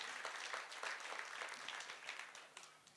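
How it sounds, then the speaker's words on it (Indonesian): A church congregation applauding during a sermon, dense steady clapping from many hands sustained throughout at moderate volume, with no voices over it. "Tepuk tangan yang lebih baik bagi Allah kita."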